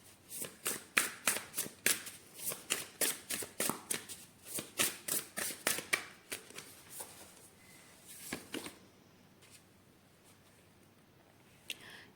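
A deck of oracle cards is shuffled in quick, rhythmic riffling bursts for about seven seconds. The riffling then thins out into a few scattered soft rustles and taps, close and moderately quiet.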